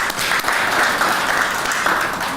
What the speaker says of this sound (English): Applause for him, please.